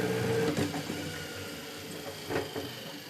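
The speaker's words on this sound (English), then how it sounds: "This is an 18 frame motorized extractor from Man Lake." An 18-frame motorized Mann Lake honey extractor spinning, a mechanical whir with rattling knocks and a couple of louder clunks, close and fairly loud, with no speech.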